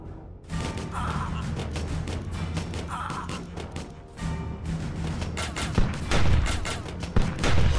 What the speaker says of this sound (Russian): эта пушка круто, она всякие бронированные цели рушит